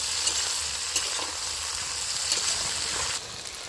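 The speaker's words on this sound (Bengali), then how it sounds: "দিয়ে এবার ভালো করে নেড়ে নিচ্ছি।" Sliced onions with capsicum and chilli frying in a pan with a pinch of salt, a loud continuous sizzle broken by scraping stir strokes, easing slightly at the end.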